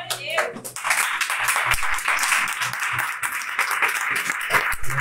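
Hands clap in applause from a church congregation during an evening service, a dense run of claps lasting several seconds, with speech heard through it.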